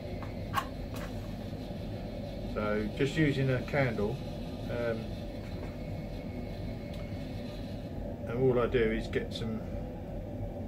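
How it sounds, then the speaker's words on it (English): Boiler room machinery makes a steady low mechanical rumble and hum throughout, with a person talking over it in two short stretches. "Sorry about the noise, but my boiler room"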